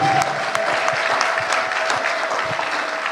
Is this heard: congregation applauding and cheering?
yes